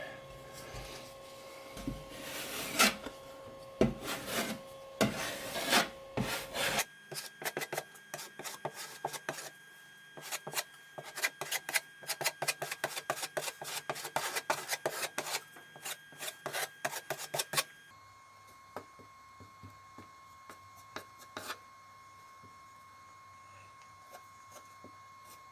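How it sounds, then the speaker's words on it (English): A taping knife scrapes and drags across a fresh joint-compound patch on wallboard, giving repeated rasping strokes close by, dense in bursts and then sparser and quieter toward the end, with no talk. "Gotta use your taping knife here."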